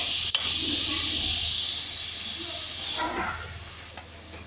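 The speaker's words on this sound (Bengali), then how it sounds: "এবার কি সুন্দর এগুলো ভাজা হচ্ছে" Loud, steady hiss of thin potato sticks frying in hot oil, close up, gradually easing off slightly toward the end.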